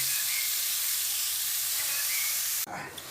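Radish pieces hitting a hot frying pan, a steady bright sizzle and hiss of oil for most of the moment, then a sudden drop into softer crackling as the vegetables go in, close and fairly loud.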